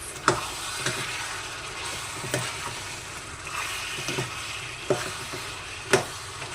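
Chicken with biryani masala is stirred in a sizzling pan, with a steady frying crackle under repeated scraping knocks of the spoon against the pan at uneven intervals.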